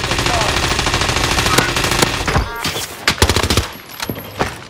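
Sustained automatic gunfire from Call of Duty: Modern Warfare, a dense loud stream of rapid shots that breaks into separate bursts and single cracks toward the end.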